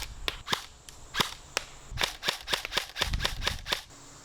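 A G&G Combat Machine airsoft gun fires a rapid string of about a dozen sharp, snappy cracks at uneven intervals, close and loud, with short pauses between bursts.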